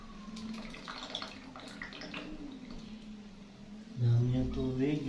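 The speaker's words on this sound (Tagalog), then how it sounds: "Dami ang tubig." Water gushing from a broken faucet pipe with the cut thread still stuck inside. A hissing rush runs under a person talking, then surges louder and fuller toward the end.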